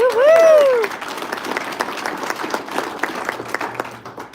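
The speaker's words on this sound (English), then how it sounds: "And then how about a round of applause for the Teenage Republicans and providing dinner for us." Applause at a county Republican convention, a clear cheer or whoop at the start, then a moderate patter of clapping that continues evenly with some voices among the crowd.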